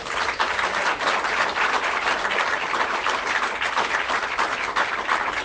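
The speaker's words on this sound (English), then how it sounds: "the brain-dead lemmings applaud for this as well" A crowd at a political speech applauds steadily with dense, sustained clapping throughout, loud and even with no talk over it.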